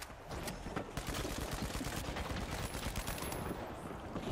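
Gunfire in the video game The Finals: rapid, dense automatic shots rattling continuously, loud and close, forming a sustained barrage with brief bursts at the start.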